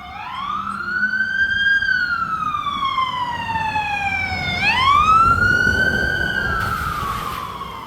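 An emergency vehicle siren wails loudly in rising and falling sweeps as the vehicle passes quickly on a Sunday, with road noise underneath and the pitch dropping as it goes by.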